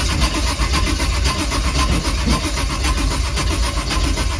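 An old stroker engine fed with Marvel Mystery Oil running steadily after starting, a loud close mechanical drone with a rapid pulsing rhythm and no speech over it.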